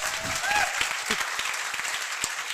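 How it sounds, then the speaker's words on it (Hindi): Crowd applause at a coaching institute's grand opening ceremony, a continuous wash of many hands with scattered shouts and voices over it. "एक बार जोरदार तालियां बजा दो"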